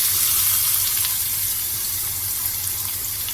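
Loud, steady sizzling hiss of onions frying in hot oil in a pan, continuous and close with no talking.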